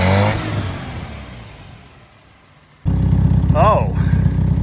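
A 1981 Dodge Challenger engine running roughly starts up and holds a loud, uneven, rumbling idle close by, after a quieter stretch with fading sounds.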